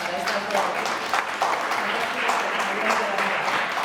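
An audience applauds two fashion personalities after a talk on series and fashion, brisk clapping with uneven bursts while a voice speaks over it.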